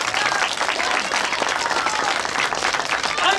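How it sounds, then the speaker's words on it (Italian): An audience at an inclusive Easter celebration in Borgata Costiera breaks into dense, sustained applause that stays loud and close throughout, with no pause in the clapping. "Facciamo un applauso a Francesco."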